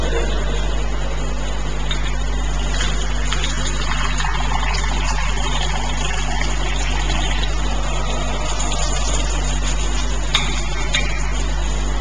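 A tap runs steadily during wudu ablution, a continuous broadband wash of flowing water over a low, constant hum, with no talking.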